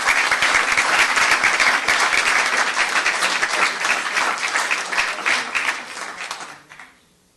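Audience applause at a town council meeting: a steady room-wide clapping that holds strong for about six seconds, then thins and fades out quickly near the end.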